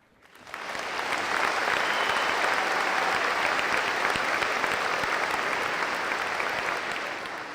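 A large Hall of Fame induction audience in Buffalo breaks into sustained applause, rising quickly and holding at a steady loud roar of clapping for several seconds.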